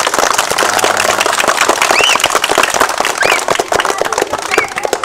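Schoolchildren clap together in sustained applause, a loud, dense crackle of hand claps close by, with a few children's shouts and a brief voice mixed in.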